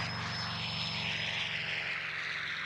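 A Mitsubishi A6M5 Zero fighter accelerates through its takeoff run with a steady, loud propeller engine roar and no speech, the engine drone holding constant for the full stretch.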